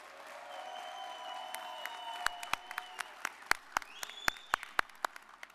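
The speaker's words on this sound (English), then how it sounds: "give a round of applause for all of our valedictorian and salutatorian recipients" Audience applause at a fall graduation ceremony for valedictorian and salutatorian recipients, starting as a soft spattering of claps over faint room tone and building into sharper, louder individual claps near the end, with no talk.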